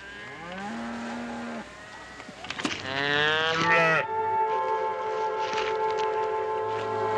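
Cattle on a ranch moo repeatedly, several drawn-out bellowing calls from different animals, one rising and wavering, loud and near, alone without talk.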